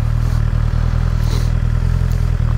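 A motorcycle with a charging fault idles after a kick start, a steady low throb and faint mechanical clatter, close by and continuous.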